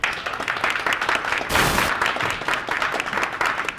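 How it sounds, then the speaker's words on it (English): Audience applause at a tech meetup, steady clapping from a seated crowd that swells briefly midway before settling back to an even patter. "let's give a round of applause to these guys for helping"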